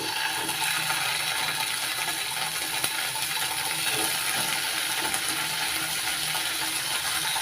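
Paneer pieces frying in hot oil in a pan, giving a steady, dense sizzle that holds evenly throughout with no voices.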